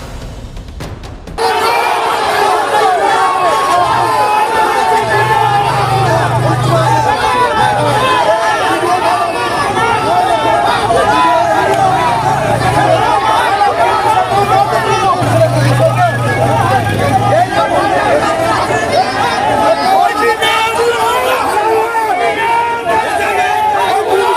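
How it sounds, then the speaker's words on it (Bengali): A crowd of local villagers protesting as they block a road at Garbagan crossing in Domjur fills the air with steady babble and chatter, with occasional vehicle rumble running beneath the voices. "হিয়ারিং এ ডেকে লজিক্যাল ডিস্টারবেন্সের নাম করে চূড়ান্ত হয়রানির অভিযোগে রাস্তা অবরোধ করে বিক্ষোভ এলাকাবাসীর।"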